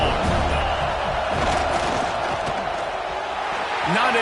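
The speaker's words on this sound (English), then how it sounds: "This crowd ready to make its presence known." Simulated stadium crowd noise from an NCAA 26 college football video game, a dense, loud, continuous roar of many voices with scattered cheers, under steady commentary talk.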